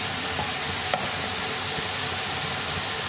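Thinly sliced onions fry in a pan while being stirred, a steady close sizzle of oil with light scraping from the stirring and one brief knock.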